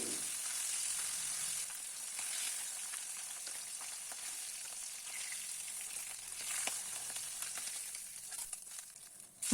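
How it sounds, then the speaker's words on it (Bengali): Sea fish pieces fry in a pan with a continuous, even sizzle and crackle, close and steady with faint stirring and no voices. "বাকি পিসগুলো এক ঝটকায় ভেজে নিচ্ছি"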